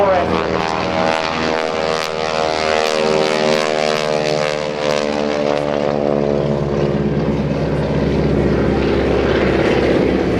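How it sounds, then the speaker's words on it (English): A 600-horsepower Pratt & Whitney radial piston aircraft engine drones loudly and steadily at an airshow, its throbbing harmonic roar shifting in pitch as it passes nearby. "Let's listen to this round engine, a Pratt & Whitney radial piston engine of 600 horsepower"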